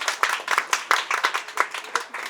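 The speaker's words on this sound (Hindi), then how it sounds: "ऐसी कम तालियों में कहाँ शेर सुनाए जा सकते हैं।" Sparse clapping from a small audience in a TV newsroom during a poetry recital (mushaira), a handful of distinct, close hand claps in an uneven rhythm that never builds into full applause.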